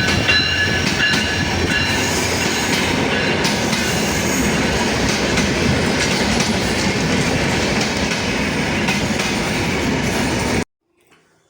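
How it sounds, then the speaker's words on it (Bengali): A passenger train bound for Dhaka rolls into a small upazila station, its loud, steady rumble and rhythmic wheel clatter filling the air close by before cutting off abruptly. "এই যে আমাদের ফাইনালি ট্রেন চলে আসলো ঢাকা যাওয়ার।"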